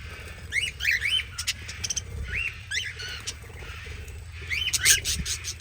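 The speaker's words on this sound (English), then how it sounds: "so fresh food and water for all the little budgies, cockatiels, and Maverick, green cheek conure." Budgies and cockatiels at a bird sanctuary chirp and whistle in short, rising calls, scattered bursts over a low background hum.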